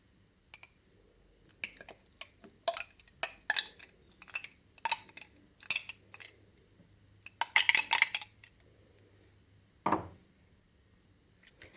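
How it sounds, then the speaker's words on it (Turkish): A glass of yogurt is spooned into a lemon-zested cheesecake mixture, giving sparse, irregular spoon clinks and taps against glass and bowl, close and fairly quiet, with a single louder knock near the end. "Bir su bardağı yoğurdumu ekliyorum."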